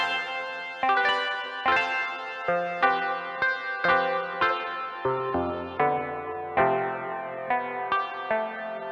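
Guitar phrase in the C Lydian mode with effects, echo and slight distortion, a series of plucked notes and chords, each ringing briefly before the next, played alone at moderate loudness.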